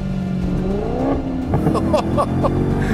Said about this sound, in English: is the brand new Maserati Gran Turismo Trofeo.